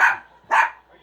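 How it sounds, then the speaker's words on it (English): A dog gives two sharp, close barks about half a second apart, loud and alone, in an animated cartoon scene. "Cappuccino, stop barking."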